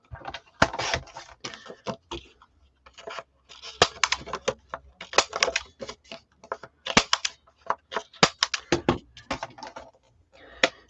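A paper photo mat is cut down to 4 by 5 for a file-folder brag book, giving a close run of crisp, scratchy cutting and clicking strokes in quick irregular bursts with short gaps.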